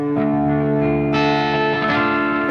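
A sustained electric guitar chord rings out in a clean, bright tone through a Fractal Audio Axe-FX III amp modeler, with a second strum partway through and a light pick accent at the end.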